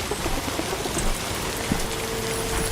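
Rain pours down steadily in the video game Death Stranding 2, a dense, constant hiss of drops with no talking over it.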